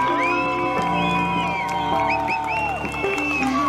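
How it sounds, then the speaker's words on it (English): Away supporters at an amateur football final roar and cheer after a goal, a dense sustained crowd noise with whoops and shouts, fairly loud and continuous throughout. "Catching the crowd by surprise, a big roar from the away support"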